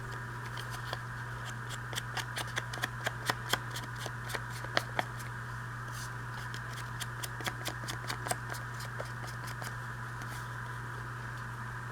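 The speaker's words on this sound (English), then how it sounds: "I'm just distressing the edges here." Rapid dry scratching and ticking as the edges of old book page journaling cards are distressed with a tool, an irregular run of short strokes over a steady fan-like hum, no talk.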